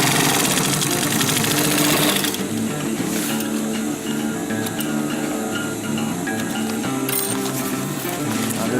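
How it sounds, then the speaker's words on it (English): A sewing machine runs continuously, stitching over folded flaps on a DIY sustainment pouch, a fast, even mechanical whir with a slight shift in pitch partway through and no pauses. "And sewing over."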